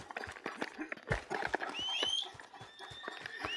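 Horse hooves clip-clopping in a video game, a quick run of sharp uneven hoof strikes close by, with a whinny-like rising tone partway through.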